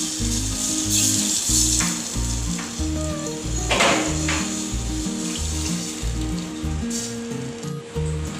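Buttermilk and gram flour batter poured into hot tempered kadhi spices sizzles and bubbles steadily up close, with stirring and a faint watery trickle, no voices.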